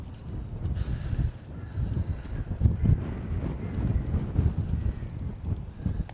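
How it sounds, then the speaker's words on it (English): Strong wind buffets the microphone on a golf course tee box during a tournament, a rough, gusty low roar that rises and falls throughout, fairly close and with no clear talk over it. "And it is windy, you can see the flag blowing really quite hard from that tee box"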